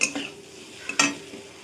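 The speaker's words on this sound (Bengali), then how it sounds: "সবগুলো একসাথে ভালো করে মিশিয়ে কিছুক্ষণ ভাজা ভাজা করে নেব" A few scraping clinks of a spatula against a pan over a faint sizzle as spices and potatoes fry, brief and close.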